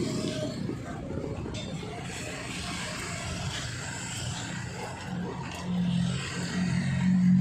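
Street traffic rolling past, a continuous low rumble of engines with a louder vehicle swelling close by toward the end; voices talk over it.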